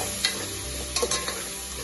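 Tomato pieces frying in a covered pressure cooker for South Indian dal khichdi, a steady close sizzle with a few brief clatters from stirring.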